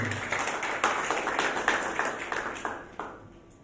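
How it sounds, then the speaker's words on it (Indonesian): Church congregation claps during a sermon, a lively round of distinct, fairly close hand claps with rhythmic peaks, gradually easing over a few seconds. "Boleh tepuk tangan yang meriah bagi Tuhan kita"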